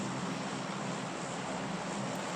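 Steady, broad roar of an airplane in flight inside a video game, a constant dense drone with no talk over it.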